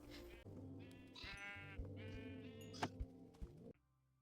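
Sheep in Minecraft bleat in quick overlapping calls, several wavering baas stacked over steady game sounds for a few seconds before cutting off abruptly.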